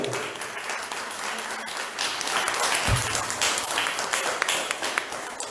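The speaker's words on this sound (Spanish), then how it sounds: "Den un aplauso al Señor." A church congregation applauds during a sermon, a moderately loud wash of clapping from many hands that swells midway and carries on steadily, heard from some distance in a reverberant room.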